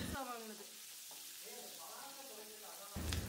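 Halved shallots with curry leaves, green chilies and mustard seeds sauté in hot oil in a pan, giving a steady close crackling sizzle under a woman's speech, ending with a louder burst of frying noise.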